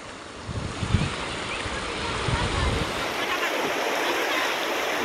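A hill river stream rushes with a steady broadband roar that stays loud and continuous throughout, with a few low thumps and splashes near the start.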